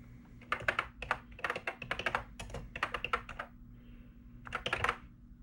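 Fingers typing on a Commodore 64 keyboard in quick clusters of clacky keystrokes, a short pause, then one last burst, close and fairly quiet over a low steady hum, with no talk.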